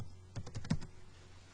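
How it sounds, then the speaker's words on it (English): A computer keyboard clicks out a short, quick burst of about half a dozen keystrokes as a password is entered, faint and close, then falls silent. "Just typing in my password."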